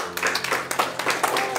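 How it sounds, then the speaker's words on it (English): A church congregation claps hands in praise, a steady patter of many hands ringing through the sanctuary at moderate loudness, with voices mixed into the clapping. "Let's give him another hand clap of praise"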